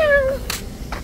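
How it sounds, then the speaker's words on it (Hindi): A cat meows once, a clear falling cry up close, followed by a couple of short scuffling noises. "शायद से बिल्ली है।"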